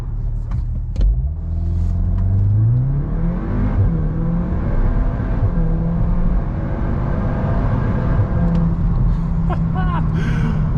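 A 2023 VW Golf R MK8 pulls hard at full throttle, its engine note climbing steadily through the gears in a loud, close, continuous roar with road rumble beneath.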